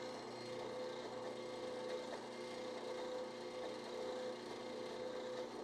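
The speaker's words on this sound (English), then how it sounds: "I can locate my Forstner bit very precisely right down the middle of it so that hopefully I can get a nice clean hole" A Forstner bit bores a clean hole in hard maple, producing a steady, even whirring drone with a constant tonal whine that continues unbroken throughout, with no voices.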